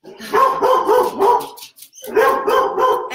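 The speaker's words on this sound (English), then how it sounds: "cue the dog. We're just going to let him go. So while he's barking" A pet dog barks repeatedly at the mail carrier at the front door, a loud, close run of barks in two bursts separated by a short pause, with no talking over it.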